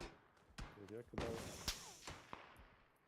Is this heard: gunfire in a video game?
yes